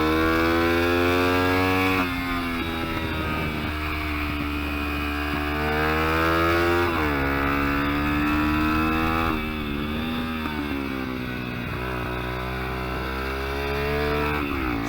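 Kayo MR125 mini-GP motorcycle on a track day, its engine droning loud and close with steady harmonics, the pitch climbing under throttle and dropping sharply at an upshift, then building again.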